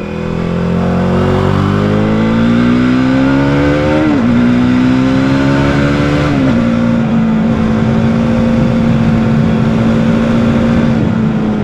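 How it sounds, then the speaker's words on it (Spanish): A KTM Duke 390 single-cylinder motorcycle is ridden hard out of a tight corner, its engine loud and close, revving up through rising gear pulls with brief shift dips before holding a steady high drone. "¡Qué increíble se siente esta moto curveando!"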